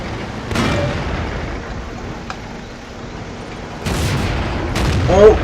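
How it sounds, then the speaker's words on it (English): A tank shell ricochets off armour in the World of Tanks video game, with sharp metallic bangs and booms over a low rumbling battle din, the louder hits coming near the end. "Ricochet!"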